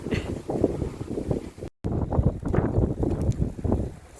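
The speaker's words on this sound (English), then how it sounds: "So, still windy. If anything, it's picked up even more." Strong wind buffets the microphone on an audax cycling ride through the flat Cheshire countryside near Bunbury, loud irregular gusty rumbling with one brief dropout, no one speaking.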